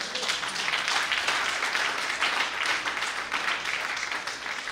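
A church congregation applauds in praise, a steady wash of clapping sustained for several seconds, moderately distant and fairly even with no voices standing out.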